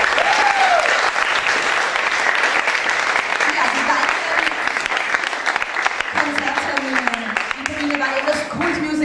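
Audience applauding at a Grease musical event in Vienna, loud continuous clapping that fills the whole stretch, with people talking and calling out over it.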